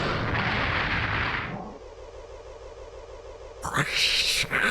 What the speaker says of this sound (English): The fucking explosion sounds.